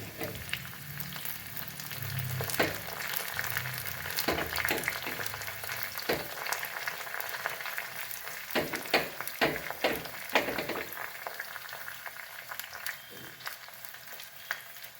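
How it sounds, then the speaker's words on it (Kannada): Onion and grated coconut fry in a pan for radish sambar, a steady soft sizzle with scattered scraping stir clicks, quiet and close throughout. "ನೋಡಿ ಆನಿಯನ್ ಫ್ರೈ ಆಯಿತು ಸ್ವಲ್ಪ ಕೊಬ್ಬರಿ ಹಾಕ್ಕೊತಿದ್ದೀನಿ"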